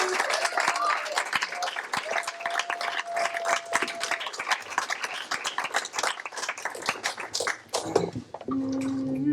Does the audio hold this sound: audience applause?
yes